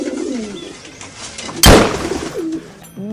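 Pigeons cooing nearby, soft repeated low coos in short phrases, interrupted midway by a loud sudden bang or slam.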